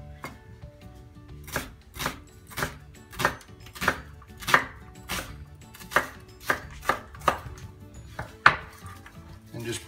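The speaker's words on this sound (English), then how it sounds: "I'm going to go ahead and cut up a red onion." Knife chops red onion on a cutting board for guacamole, with a brisk run of about a dozen sharp, evenly spaced thuds close by and no talking.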